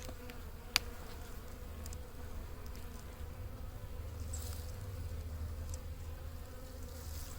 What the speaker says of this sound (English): These bees really want to sting me though.